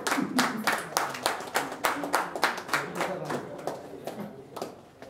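An audience at a Telugu book release breaks into warm applause, a run of sharp hand claps that swells and then thins out over a few seconds.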